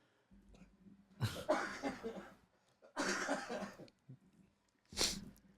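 A voice imitates a drawn-out coughing fit in three harsh, raspy bursts separated by short pauses, the last one sharp and brief, all fairly quiet and close.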